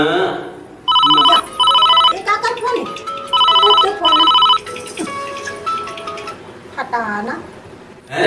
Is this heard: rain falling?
no